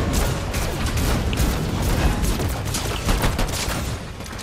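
Dense, continuous gunfire in Fortnite, rapid overlapping shots and impacts from several weapons, loud and busy throughout with no clear pauses.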